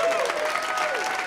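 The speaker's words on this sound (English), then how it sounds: "Let's give him a round of applause." Short burst of audience applause for a man invited up on stage, steady dense clapping with tonal hum or whistle lines running through it, cut off after about a second.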